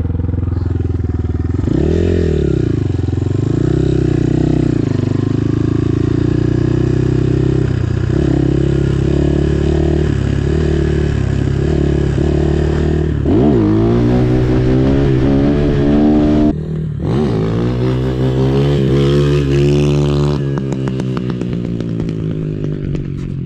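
A Chinese RFZ 250 motorcycle revs loud and close during a test ride, its engine rising and falling in repeated throttle blips, then climbing through sustained higher revs with clattering and shifts, with no talking.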